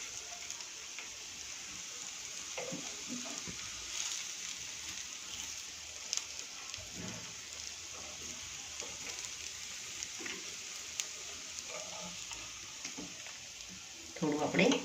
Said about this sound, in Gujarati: હવે આપણે ઉપરની સાઈડ પણ ફ્રાય આ રીતે કરી લઈશું.